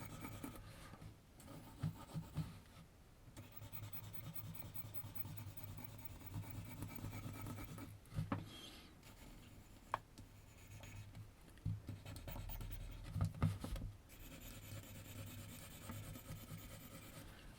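Pencil rubbing and scratching across paper in steady back-and-forth strokes while darkening the background of a realistic drawing of a girl, close and continuous with brief pauses and no talking.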